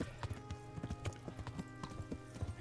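Horse hooves pounding at a sprint in Kingdom Come: Deliverance, a quick uneven clip-clop of galloping steps, close and fairly quiet, with a brief snort or whinny near the end.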